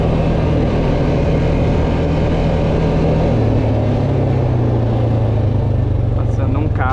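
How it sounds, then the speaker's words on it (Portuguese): A car passes on a road, heard as a steady low engine drone with a pitch shift midway, recorded near a small vehicle being ridden, with continuous broadband rumble throughout. "Passando um carro ali."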